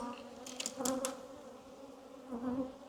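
Honeybees buzz around a beehive in a faint, steady drone with a few brief, sharper passes close by, and nobody talking.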